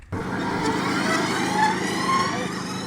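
A Zero electric motorcycle underway, its motor giving a steady, fairly loud whine with faint rising harmonic tones over continuous wind and road rush, close and unbroken.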